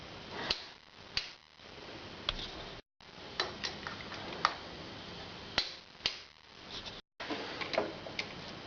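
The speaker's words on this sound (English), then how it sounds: "operating this torque wrench" A torque wrench tightening sport head bolts to 13 foot-pounds gives crisp isolated clicks, irregularly spaced a second or so apart, close and fairly quiet over a faint background, with no voices.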